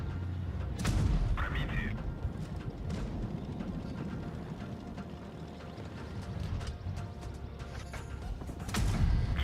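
A tank cannon fires tracer shells in a tank battle game, with heavy booms near the start and end over a rumbling engine bed and mechanical clatter, while a player talks throughout.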